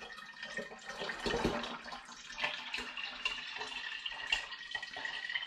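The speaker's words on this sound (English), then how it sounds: "I think I'm confident enough for the big pour now" Homemade blackberry cider is poured from one vessel into another, making a soft continuous trickle and splash with a slightly louder gush early on, quiet and close, with no talking.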